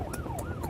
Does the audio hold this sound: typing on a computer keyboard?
no